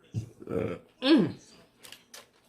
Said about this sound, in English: So he's burping.